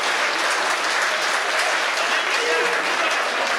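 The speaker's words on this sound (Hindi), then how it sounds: "तालियां थोड़ी जोर से बजाइए।" Sustained, dense applause from an audience at a Hindi comedy poetry gathering for poet Anil Choubey, steady and loud across the whole stretch with no pauses.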